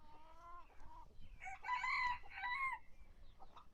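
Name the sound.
chickens clucking in coop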